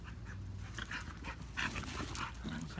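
A big male Dogo Argentino pants steadily at close range during messy indoor playtime, with quick breathy puffs and a few soft whimpers over faint background noise.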